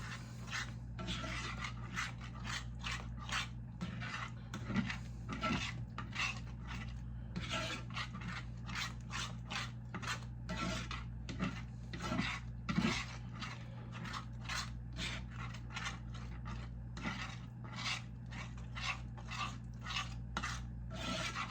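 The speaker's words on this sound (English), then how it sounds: "Just constantly scrape around the edges and in the center." A spatula constantly scrapes thickening sausage gravy around the edges and center of a stovetop pan, producing a fast, rhythmic run of rasping strokes over a low steady hum, quiet and close, with no voices.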